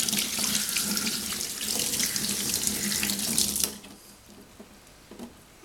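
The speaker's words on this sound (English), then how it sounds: "I'll blast it out with water." Running water splashes steadily from a tap rinsing a dish for a few seconds, then stops, leaving quiet drips and faint clatter.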